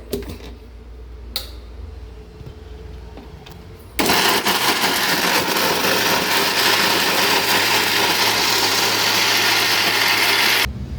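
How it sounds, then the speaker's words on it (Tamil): Mixer grinder jar grinding ingredients for simili urundai into powder, a loud steady whirring drone that starts abruptly after a few seconds of quiet room noise and runs continuously before cutting off near the end. "இப்போ மிக்சி ஜாரில் போட்டு இதை ஒரு சுற்று சுற்றிட்டு"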